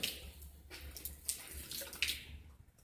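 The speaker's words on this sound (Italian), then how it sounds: "ho sempre la solita bottiglietta di acqua calda in mano, può vedere che se la rovescio per terra" A small bottle of hot water is tipped out onto the ground, giving a faint, steady splashing hiss that lasts for about three seconds.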